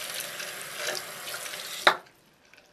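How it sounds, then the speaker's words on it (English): Warm water runs steadily from a tap into a brush-cleansing palette, then cuts off abruptly with a brief splash, leaving near silence. "Add warm water."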